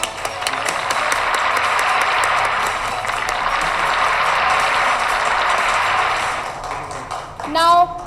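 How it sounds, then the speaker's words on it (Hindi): An audience at an Atomy business seminar claps to welcome a speaker, a dense, sustained wash of applause that fades near the end, followed by a brief tonal sound. "जोरदार तालियों से सर का स्वागत किया जाए।"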